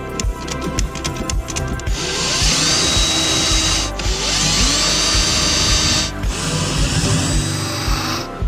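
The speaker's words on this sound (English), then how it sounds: "help me push down the pedal assembly so I can drill out the holes in the pedal face" A power drill boring holes through the metal face of a car pedal assembly, heard close and loud in three sustained whining bursts separated by brief pauses.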